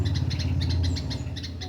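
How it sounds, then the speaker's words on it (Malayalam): A red bulbul, kept in a home birdcage in Kerala, gives quick repeated chirping calls in short bursts over a steady low background rumble, fairly close and clear. "ഇതാണ് എരുത്തതലിച്ചി അല്ലെങ്കിൽ റെഡ് ബുൾബുൾ എന്ന പക്ഷി"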